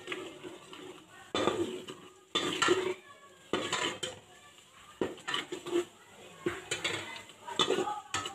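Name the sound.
stirring garlic ginger paste frying in ghee in a pot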